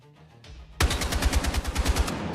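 A Battlefield 6 rifle fires a fast full-auto burst with recoil after a short quiet lead-in, loud close rhythmic shots lasting about two seconds with no talking.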